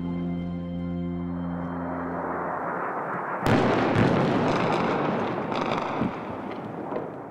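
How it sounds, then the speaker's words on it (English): Airstrikes over Mosul at night: a low droning hum gives way to a sudden heavy blast, followed by a long rumbling roar and further thuds and cracks echoing across the city. "Airstrikes rock the city."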